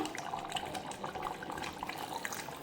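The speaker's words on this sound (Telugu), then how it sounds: "ఇదిగోండి కొన్ని వాటర్ యాడ్ చేస్తున్నాను నేను" Water pours steadily into a pot of mutton curry, a soft continuous splashing trickle heard quietly with no one speaking.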